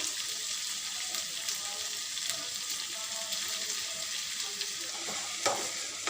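Vegetable noodles fry in a pan while being stirred, giving a soft continuous sizzle with faint scraping and a brief clink near the end, no voices.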